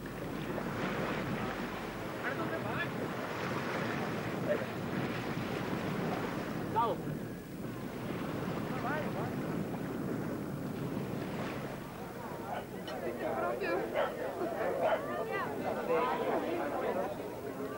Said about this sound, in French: Sur ces eaux peu profondes, ils circulent maintenant à moteur.